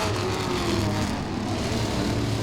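Modified race cars lap Langley Speedway. The engines give a steady, droning roar at a constant pitch throughout, close and loud, with no talk.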